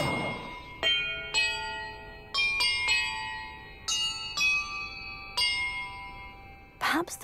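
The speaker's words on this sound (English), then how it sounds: "the order I'm supposed to ring the bells in" Bells in Hogwarts Legacy ring one after another in an irregular sequence of clear, bright strikes, each leaving a long shimmering decay that overlaps the next, close and distinct with no talking.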